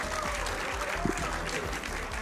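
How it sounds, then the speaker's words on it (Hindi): Studio audience applause welcoming a guest on a debate show, a brief burst of clapping under an overlapping voice and background music. "तालियों के साथ स्वागत कीजिए"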